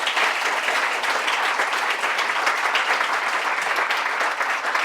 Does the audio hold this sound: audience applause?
yes